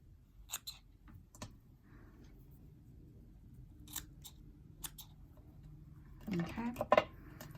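Scissors cutting yarn for a pom pom wand, giving a few sharp snips near the end amid scattered soft clicks and handling noises.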